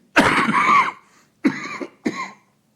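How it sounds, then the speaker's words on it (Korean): Three coughs from a nearby person: one long, harsh cough followed by two shorter ones after a pause, loud and clear with no talking. "오늘 한 번도 기침 안 했는데 여기 올라오니까 기침"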